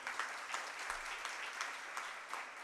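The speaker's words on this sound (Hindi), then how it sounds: "ताली बजाना तो जोरदार बजाओ," An audience at a Jain religious discourse claps in a soft, distant, continuous patter with slight rhythmic swells, and no voices are heard over it.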